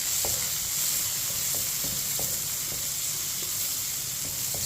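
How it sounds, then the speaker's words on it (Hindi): Washed sooji (semolina) sizzling in a spoonful of oil in a pan over low heat, a steady frying hiss with occasional light scraping taps of stirring. "सौंगी को हल्का सा ब्राउन कर लेंगे।"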